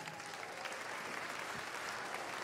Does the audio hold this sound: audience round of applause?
yes